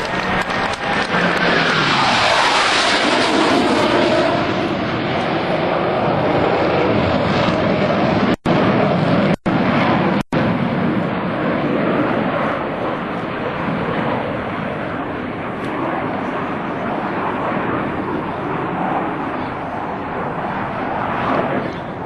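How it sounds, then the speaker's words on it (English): US Navy Blue Angels jets at a 2003 Rhode Island Air National Guard open house air show make a loud, sustained roar that swells and then holds as they pass overhead. "From the right, the Blue Angels"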